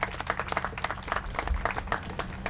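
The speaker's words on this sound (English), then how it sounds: "Let's give a big round of applause to Casa Familiar" A crowd claps steadily for a community group at the opening of a San Ysidro teen center: dense, continuous applause with no talking over it.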